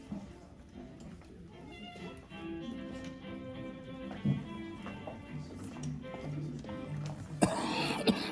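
Occasional coughs and throat clearing from people at a small-town pageant, fairly quiet and scattered over a low murmur of voices and light taps.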